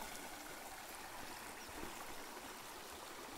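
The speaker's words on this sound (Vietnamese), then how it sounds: "Phía trước mặt các bạn chính là ngã ba suối" Mountain stream rushing steadily at a forest confluence where two branches meet near a border, a continuous broadband water roar, close and even throughout with no voices.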